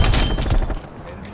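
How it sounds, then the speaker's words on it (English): A grenade blast in the video game Call of Duty Black Ops Cold War: a loud, dense burst of booming, crackling noise lasting under a second, then a quieter rumbling tail. "Throwing grenade!"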